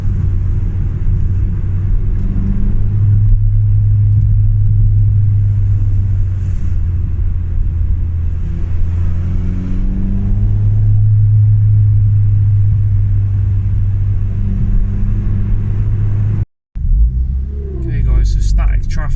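A Ford Fiesta ST fitted with a Simpson race exhaust and tubular manifold drives along, its deep steady engine rumble loud and close throughout, with someone speaking over it and a short dropout near the end.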